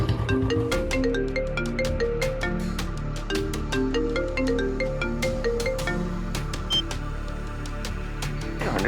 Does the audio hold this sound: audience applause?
no